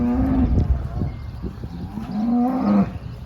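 A cow on a farm in Saudi Arabia moos twice nearby, two long low calls separated by a short pause, with faint shuffling and background noise.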